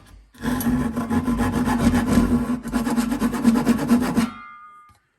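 A Japanese-style pull saw cuts through wood in fast, even rasping strokes, loud and close, stopping abruptly near the end with a short ringing tail.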